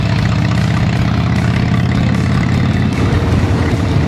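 A loud, steady Harley-Davidson Dyna motorcycle engine idles close by with a low, even rumble and no other sounds.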